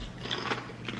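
Thick-cut barbecue potato chips from Trader Joe's bitten and crunched close up, a brief crackly crunch lasting about a second with no talking.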